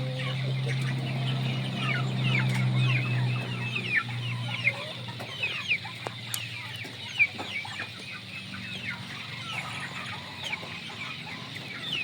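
Clucking from a large Shamo gamefowl rooster mixes with a busy background of other chickens and birds. The sound stays steady throughout, with low humming underneath and scattered louder calls.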